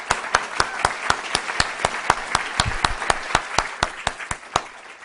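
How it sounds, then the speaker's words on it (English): A single steady clapper, or a few in unison, beats out a fast, even rhythm of sharp claps at a welcome talk opening a conference on human and veterinary medicine. The claps sound close and alone, with no voices over them. "I want to give you a round of applause for pulling this together"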